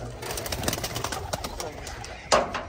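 Pigeons coo softly on a rooftop in a club loft, with low murmuring calls under background noise and a sharper brief sound near the end.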